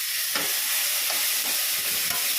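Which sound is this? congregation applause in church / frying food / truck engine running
frying food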